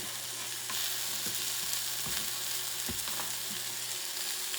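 Bison bacon fries in a little butter in a cast iron pan, giving a steady close sizzle with a few soft scrapes and taps, and no voices.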